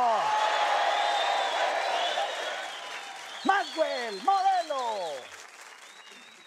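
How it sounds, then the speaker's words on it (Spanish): Studio audience applause on a Colombian Saturday comedy show, a broad wash of clapping heard under a shouting host and other voices, with short bursts of cheering toward the end. "¡Aplausos"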